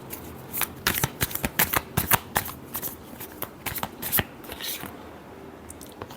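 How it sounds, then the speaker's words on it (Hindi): A tarot deck is shuffled up close with a quick run of crisp, overlapping card flicks and riffles. The flicks slow and thin out toward the end, then quiet handling noise follows. "Last shuffle."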